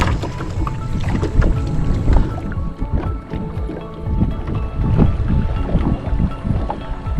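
Oars splash and knock as a boat is rowed on the Norfork River tailwater, with rhythmic water strokes and creaks over a rushing wind-blown background, close and fairly loud.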